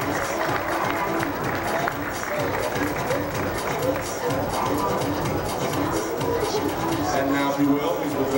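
An audience at the Miss Gay Black Universe 2004 pageant applauds a contestant with dense, steady clapping mixed with crowd murmur and scattered voices, continuous and fairly loud throughout.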